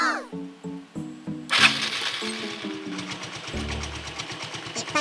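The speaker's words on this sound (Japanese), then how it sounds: "ではエンジンをかけてみましょう。" A Yamaha Majesty 125 scooter, recently fitted with a new intake insulator to fix an engine fault, fires up in one go partway through and settles into a close, pulsing idle, with stepped musical tones playing beforehand.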